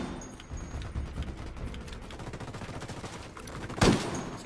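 Gunfire in Ghost Recon Wildlands, a dense rattle of rapid shots in an ongoing firefight with one sharper, louder crack near the end, all at fairly steady volume without talk.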